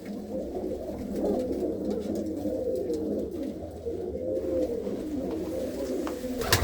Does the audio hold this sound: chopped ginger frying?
no